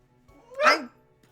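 A single dog barks once, a short loud yelp in the middle of a quiet indoor room with faint background hum.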